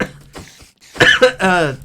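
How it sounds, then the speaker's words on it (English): A person coughs and clears their throat in a few short, harsh bursts up close, with a silent gap before louder coughs near the end. "you made me laugh and cough at the same time"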